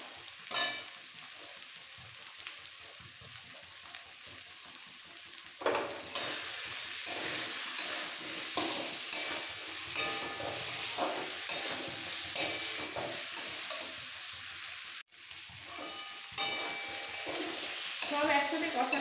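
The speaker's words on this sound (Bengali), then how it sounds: "এবার দেবো ভেজে রাখা ফুলকপিগুলো" Fried cauliflower is stirred into a pan of thin katla fish curry with potato. It sizzles steadily while the spoon scrapes and clatters at close range, with a brief pause partway through and no voices.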